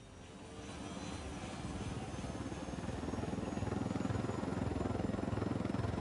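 A helicopter in the Ghost Recon Wildlands video game, its engine and rotor drone building into a steady, dense, close whir that grows slightly louder and holds, with no talking over it.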